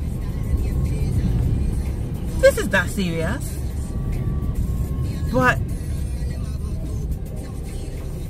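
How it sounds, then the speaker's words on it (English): Road traffic heard from inside a moving car, a steady low rumble of engines and tyres running throughout while a voice talks over it in short bursts. "This traffic."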